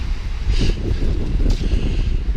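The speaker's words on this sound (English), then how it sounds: "our flags are just ripping in the wind" Strong wind roars and buffets steadily on Lookout Mountain, with two brief hissing flaps of flags snapping in the gusts.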